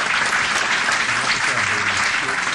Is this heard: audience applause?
yes